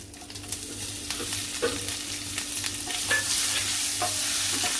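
Curry leaves, green chili and garlic sizzle in hot oil with mustard seeds and asafoetida for a Marathi-style tempering, a steady crackling hiss with occasional sharper pops and scraping stirs, with no voices.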